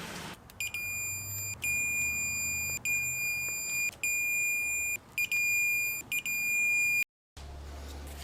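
An electronic torque wrench beeps while bolts on a Lexus front suspension are tightened to 24 foot-pounds, sounding a series of high, steady electronic tones of varying length that break off abruptly near the end.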